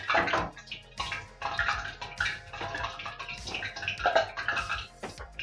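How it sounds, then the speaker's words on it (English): Water hits hot oil in a pan while prawn balls are being cooked, giving loud, bursty sputtering and crackling in uneven surges close by, without talk. "So that sound is the sound of the water that I just put in the hot oil."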